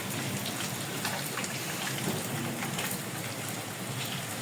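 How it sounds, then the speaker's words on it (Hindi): Heavy rain pours steadily in Faisalabad, a dense continuous hiss of drops hitting surfaces close by, with no talking. "आज फैसलाबाद में खूब बारिश हो रही है।"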